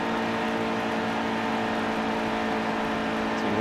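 Racing truck engine in the NASCAR Heat 2 video game at Texas, a steady sustained drone with strong harmonic tones, loud and continuous with no talk.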